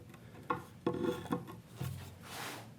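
A chisel scrapes the wood of a bookcase shelf in a handful of short, rasping strokes, close and fairly quiet, each starting with a brief scuff.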